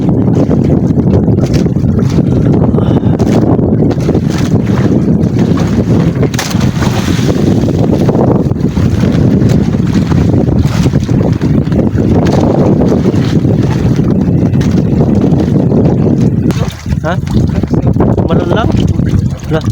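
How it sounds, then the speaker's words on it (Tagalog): Strong wind buffets the microphone continuously, roaring over open water with people talking underneath. "lamig ng hangin"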